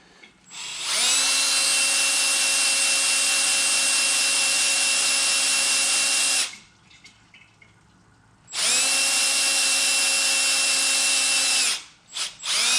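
A power drill spins the oil pump of a Buick 350 engine in two long, loud, steady whining runs separated by a brief pause, with a short burst near the end.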